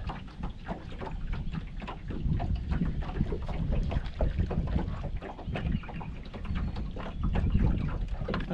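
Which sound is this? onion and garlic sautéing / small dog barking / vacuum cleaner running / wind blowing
wind blowing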